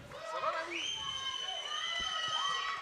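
A crowd cheers and shouts close behind at a senior right-arm finals day of the 2025 World Armwrestling Championship. The cheering is loud and continuous, with high excited voices rising and falling and some shrill whistle-like tones.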